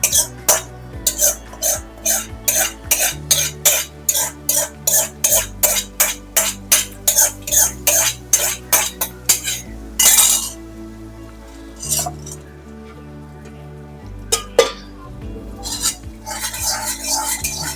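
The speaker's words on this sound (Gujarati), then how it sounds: "કેપ્સિકમ થોડું કાળું માળું શેકવાનું સાતળવાનું છે" Metal utensil scrapes and clinks rhythmically against a pan while capsicum is sautéed for a Jain paneer kaju curry, dozens of quick regular strokes followed by scattered louder knocks and stirring.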